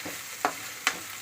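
Oil hisses and sizzles steadily in a pan while ingredients fry for a fish curry, with a few sharp stirring clinks breaking through the close, constant frying.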